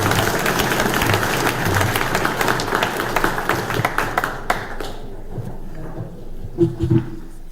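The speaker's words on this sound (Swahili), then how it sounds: "Simpigie mama makofi." An audience at a Kenyan public event at a prison claps, a dense patter of applause that holds steady for several seconds and then thins to a few scattered claps.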